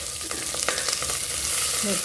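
Steady oil sizzle with frying crackle as onion and green chili are sautéed in a pan, occasional stirring clicks over a constant hiss.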